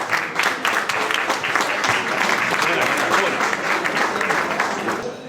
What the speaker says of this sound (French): On les applaudit une dernière fois, Lionel et Tania.